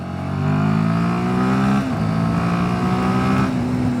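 Royal Enfield Himalayan 450 motorcycle pulling from 30 to 60 in second gear on the road, engine note rising steadily and loud with a brief dip near the middle before climbing again over wind noise.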